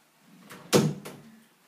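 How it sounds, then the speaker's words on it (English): A bedroom door swings shut with one firm thud, close and fairly loud, followed by a short rattle of the latch, against a quiet room. "I just closed my door"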